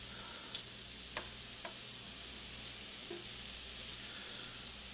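Meatballs searing in a pan make a faint, steady sizzle, broken by a few soft ticks and pops.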